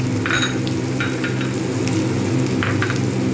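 Chili and turmeric powder sauté in hot oil for a katla fish-head muri ghonto, giving a steady, close sizzle with occasional light clinks from stirring, and no voices.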